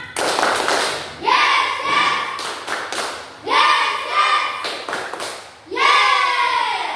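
A classroom clapping cheer, bursts of sharp rhythmic hand claps from a group of children, with loud chanted voices rising between the claps in three repeated rounds, close and lively.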